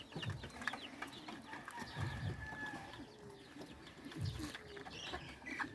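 Soft, high chirps and peeps of Rhode Island Red chicks come in scattered bursts over a quiet outdoor background, with a few low clucks mixed in.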